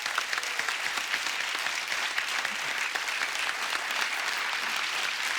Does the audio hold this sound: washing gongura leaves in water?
no